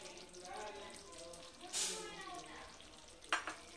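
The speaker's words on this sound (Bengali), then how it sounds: "গ্যাসের আঁচটাকে মিডিয়াম করে বন্ধু এখন ভালো করে কষতে হবে" Katla fish rezala masala with cashews being sautéed in mustard oil over medium heat, a soft sizzle with intermittent stirring scrapes and a couple of sharper clinks, while someone talks over it.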